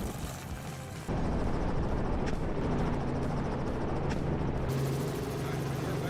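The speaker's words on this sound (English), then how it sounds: "the helicopter's blades kicked up dust" Helicopter blades kicking up dust over vast open plains on a hot day, a loud steady rotor roar with a low rumbling drone that jumps in abruptly after a quieter first second and holds throughout.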